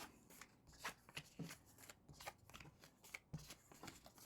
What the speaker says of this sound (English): So we're going to go ahead and shuffle these up